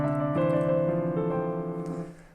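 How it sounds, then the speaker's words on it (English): A short piano lick from the bridge of a song, with sustained notes ringing close and clear, then fading at the end. "There's also this other little piano lick that you hear in the bridge."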